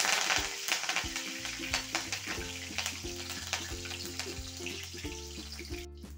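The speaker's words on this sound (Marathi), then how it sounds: "मिरच्या पण तळून घेऊ" Green chillies frying in hot oil, with a dense crackling sizzle and stirring clatter, close by, accompanied by steady background music throughout.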